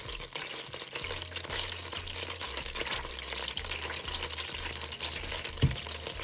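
Ginger paste fries in ghee for chicken biryani, making a soft, continuous sizzle with occasional stirring and a brief clunk near the end, no one speaking.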